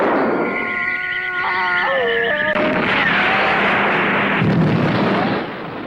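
Artillery-style guns fire a round in a war film scene, a single heavy boom cutting in after a sustained tonal sound, then a rumbling decay.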